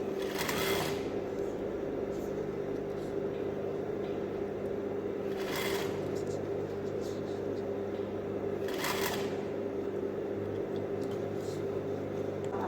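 A sewing machine stitches trousers, running in a steady close mechanical whir across the whole stretch, with brief louder bursts of noise at a few points and a voice speaking underneath.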